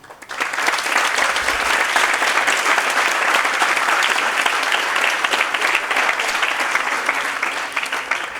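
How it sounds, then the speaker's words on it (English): A graduation audience applauds teachers and administrators, a dense, loud, steady wash of clapping from a large crowd that swells in quickly and holds throughout. "I will ask you now to applaud your teachers and administrators who have supported you"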